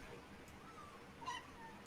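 A dog lets out faint, brief whimpering whines, a couple of thin high calls near the middle of a quiet indoor moment.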